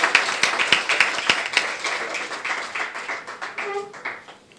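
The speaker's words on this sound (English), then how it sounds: "with a big round of applause" Audience at a Birmingham University event on climate, conflict, gender and faith leaders breaks into a dense round of applause welcoming a speaker, many overlapping claps, strongest at first and gradually thinning and fading toward the end.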